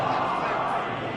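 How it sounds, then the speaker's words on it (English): Home crowd applauding in the Madden NFL 24 video game after a Philadelphia Eagles victory: a dense, continuous roar of crowd noise that fills the whole moment at steady volume. "the home crowd applauding. They're happy with what they've seen."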